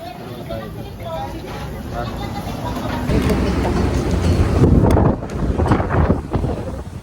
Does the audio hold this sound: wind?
yes